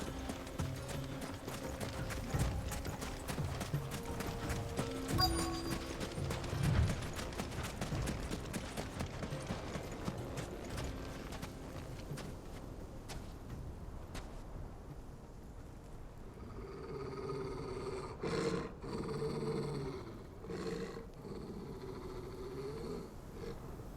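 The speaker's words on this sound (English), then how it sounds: "Those are Ashen steeds" Ashen steeds, horses in the video game Final Fantasy 16, trotting with steady clip-clop hoofbeats over a musical score, the hooves carrying through most of the stretch with occasional snorts, fairly close and prominent.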